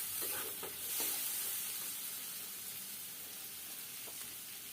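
Prawns being stirred through a frying masala in a pan for chingri malaikari, a soft continuous sizzle with a few spoon scrapes early on, fairly quiet and without speech.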